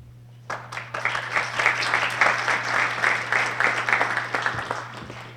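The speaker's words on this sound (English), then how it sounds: "I had to get you warmed up for that by clapping and starting the clapping" An audience at a cyber security seminar breaks into clapping after a faint hum, the applause building quickly into a steady mass of claps that holds then eases slightly toward the end.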